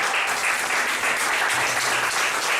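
A church congregation applauds and cheers for Jesus during a sermon. Steady, dense clapping fills the room without a pause.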